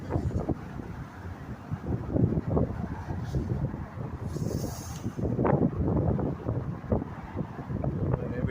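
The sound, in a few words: strong wind blowing on the microphone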